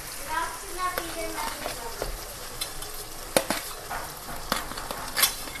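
Green chillies added to onions frying in oil in a home kitchen pan, a soft steady sizzle with stirring clicks and occasional spoon taps against the pan, heard fairly close and quiet.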